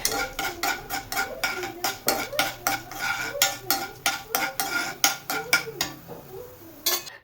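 Chana dal and urad dal tossed in a little oil in a pan, a spoon scraping and stirring in a quick, steady rhythm of sharp metallic strokes, close and fairly loud with no talking.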